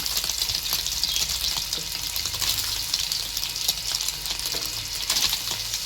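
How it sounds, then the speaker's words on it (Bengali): Boiled soybean chunks sizzle and crackle steadily in hot oil in a pan, a dense, loud frying hiss that runs without pause and with no voices. "সোয়াবিনগুলো একটু লাল লাল করে ভেজে নেব।"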